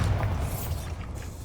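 A Bombarda blast spell in Hogwarts Legacy lands as a deep booming burst with a heavy low-end thud that fades out over a second or so.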